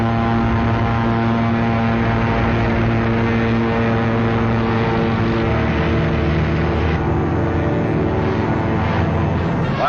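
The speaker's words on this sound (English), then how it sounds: "High overhead, British fighter planes fought the Luftwaffe to a standstill." British fighter planes of the Second World War drone overhead in a steady, loud, harmonic engine hum that holds without a break, with no talking.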